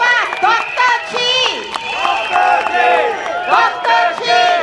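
At an SDP outdoor election rally on a field beside Sun Plaza in Sembawang, a large crowd yells and chants loudly and continuously, with shouting voices rising and falling throughout.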